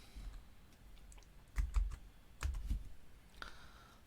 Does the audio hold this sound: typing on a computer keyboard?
yes